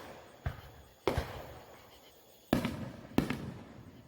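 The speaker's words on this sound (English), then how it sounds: "Fireworks are loud." Fireworks going off nearby at a boat, four separate sharp booming cracks spaced irregularly over a few seconds, each trailing off into a short rumbling echo against quiet background hiss.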